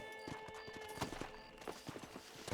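A horse's hooves clip-clop at a steady walking rhythm in the Red Dead Redemption video game, moderately close, over a faint tonal background hum.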